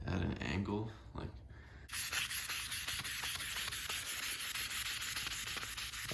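Steady back-and-forth rubbing of wet sandpaper on the faded clear coat of a BMW E36, close and continuous after a voice speaks briefly at the start.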